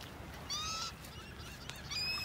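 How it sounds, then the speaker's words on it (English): Geese honk twice on a beach in North Naples, Florida, a pair of short nasal calls at moderate distance over a steady outdoor background hiss. "Noisy birds."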